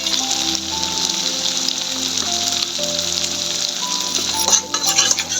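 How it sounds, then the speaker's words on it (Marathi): Masala spiced for brinjal sizzles steadily in hot oil, a dense close crackle and hiss running throughout with soft stirring scrapes, and a faint melodic tone sits underneath. "तेल सुटस्तवर परतून घेते मसाला"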